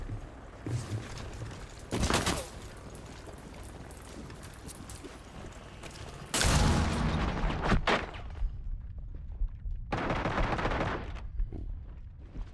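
Gunfire in Rainbow Six Siege, several loud bursts of rapid shots separated by quieter stretches, close and punchy.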